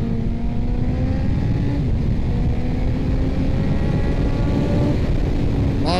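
A 2004 Suzuki GSX-R 1000 K4 sport motorcycle on the road, its engine holding a steady, loud drone with rising harmonic sweeps as it pulls through gears, plus wind rush, continuous and close throughout.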